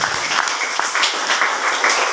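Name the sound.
congregation applause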